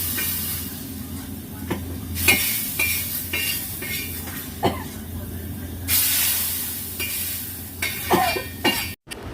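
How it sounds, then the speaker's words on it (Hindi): Spices sizzle and hiss loudly in bursts in hot oil while tempering dal, with occasional metal scrapes and clinks of a spoon against a pan. No one talks. "दाल में तड़का भी लगा दिया"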